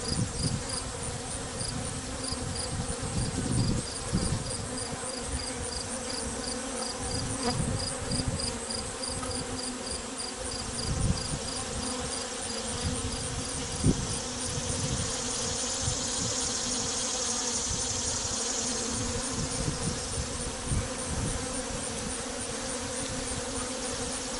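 Agitated honeybees buzz loudly and continuously around an open hive during an inspection of a failing colony with light, emptied frames, a dense steady swarm drone with occasional louder passes close by.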